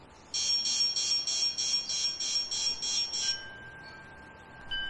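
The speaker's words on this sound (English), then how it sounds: "Test out the alarm." A Winees outdoor 2K Wi-Fi spotlight security camera sounds its alarm siren: about ten rapid, evenly spaced high electronic beeping pulses, loud and close, followed by a fading tone and brief quiet.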